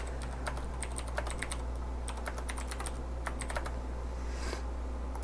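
Rapid keystrokes on a computer keyboard while writing code, coming in quick irregular bursts with brief pauses over a steady low room hum.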